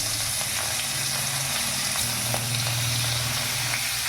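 Tengra fish sizzle and crackle steadily in hot oil in a pan, a close, continuous frying hiss with a low bubbling hum underneath.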